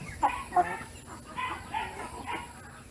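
Brahma chickens cluck in several soft, close bursts spread across a few seconds over a quiet farmyard background.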